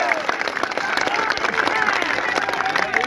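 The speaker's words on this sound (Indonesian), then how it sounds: "Tepuk tangan untuk PBB." Crowd applause at a youth rally, dense clapping mixed with cheering voices, loud and continuous.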